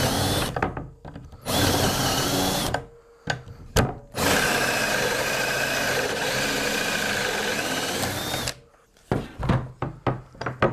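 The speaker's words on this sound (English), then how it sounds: "Slide it down, line it up, and very easy to accurately drill your holes." A power drill bores holes through a cabinetmaking jig in long, steady, loud whirring runs, broken by short bursts, clicks and handling clatter between holes.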